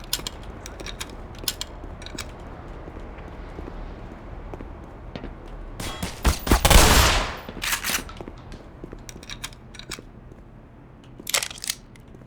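Pistol fire in the Half-Life remake Black Mesa: scattered sharp shots, then a dense loud burst of rapid firing midway, followed by a few more cracks and mechanical clatter.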